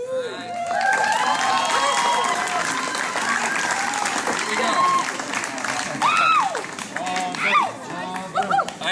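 Wedding reception guests applauding and cheering loudly, a dense steady wash of clapping with whoops and shouts rising over it, continuing throughout before the father of the bride speaks.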